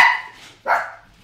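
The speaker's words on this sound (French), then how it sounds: "vous entendez le chien qui aboie" A dog barking nearby, two short, loud barks in quick succession with a brief gap between them and no talking over them.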